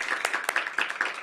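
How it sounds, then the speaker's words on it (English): An audience at a city technology investment event claps in a brief, dense burst of applause, steady and moderately loud throughout. "please join me in giving our parents a round of applause"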